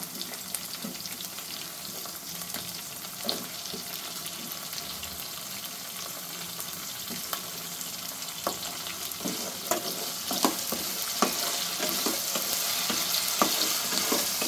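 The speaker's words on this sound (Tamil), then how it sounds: "இப்போ கத்திரிக்காய் முருங்காய் அரிஞ்சதை போட்டுக்கலாம் நல்லா வதக்கிடுங்க" Brinjal and drumstick pieces sauté in a pan with a steady broadband sizzle, punctuated by sharp scraping stirs throughout, growing slightly louder toward the end; no voices.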